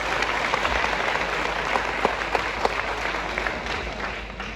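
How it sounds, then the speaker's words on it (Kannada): A large audience applauds steadily for two Kannada performers, a dense, sustained wash of clapping that holds for several seconds before slowly thinning out. "ದೊಡ್ಡ ಚಪ್ಪಾಳೆ ಮೇಲೆ."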